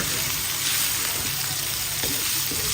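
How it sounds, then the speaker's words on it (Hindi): Minced keema with tomatoes sizzling steadily in a pan as it is fried, a loud continuous crackle with occasional scrapes of a spoon stirring through it. "अब मैं फिर से इसकी भुनाई करूँगी"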